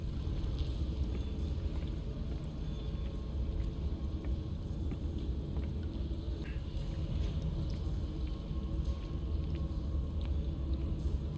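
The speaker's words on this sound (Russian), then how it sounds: "Лодка." Steady low water and engine wash of a boat moving across water in the video game Call of Cthulhu, a continuous even rumble with faint splashes on top, heard alone with no talk.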